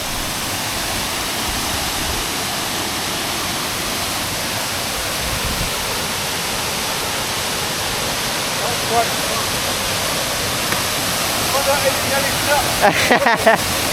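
Steady, loud roar of a nearby waterfall, a constant rushing wash of water with a few faint knocks toward the end.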